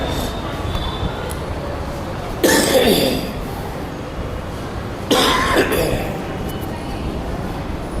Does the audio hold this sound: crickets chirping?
no